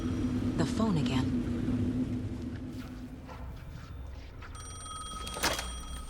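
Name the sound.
telephone ringing in the video game Alan Wake 2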